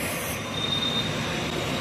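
A train rolls along railway tracks with a loud, continuous rumble and a thin high metallic wheel squeal, close by and steady throughout.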